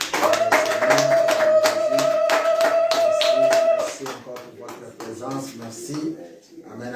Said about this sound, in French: Acclamez pour la gloire de Dieu.